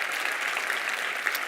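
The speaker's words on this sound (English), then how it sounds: "Can a warm round of applause to you?" Warm round of applause for speakers at a cleantech conference, a brief burst of steady crowd clapping from an audience.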